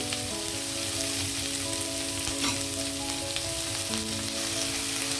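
Capsicum and green chillies fry in a pan with turmeric and cumin powder nearby, giving a steady close sizzle with faint stirring under a constant hum, no talk.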